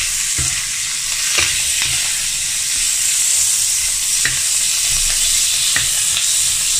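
Pieces of food sizzling and frying in a pan in a small rented-room kitchen, a steady close crackling hiss with occasional stirring scrapes and knocks.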